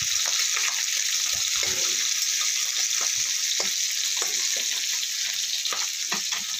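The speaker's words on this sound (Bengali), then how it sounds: "একটা পাশ ভাজা হয়ে গেলে এবার মাছগুলোকে আস্তে আস্তে করে উল্টে দেবে, দিয়ে আরেকটা পাশও ভেজে নেবে।" Pabda fish pieces sizzle steadily in hot oil as they are gently turned to fry the second side, a continuous close crackle and hiss with small pops and no voices.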